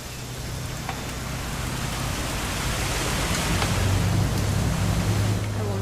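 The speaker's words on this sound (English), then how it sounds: "It's gonna rain the whole weekend," Steady rain pours down in the video game What Remains of Edith Finch, a dense, even hiss that builds slightly louder over several seconds with a low rumble underneath.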